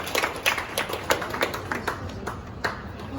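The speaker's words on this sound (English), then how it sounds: "Let's give a round of applause for Lee." A small group claps for Lee during a speech, with individual claps distinct and uneven, a sparse, close patter rather than a dense roar, continuing steadily throughout.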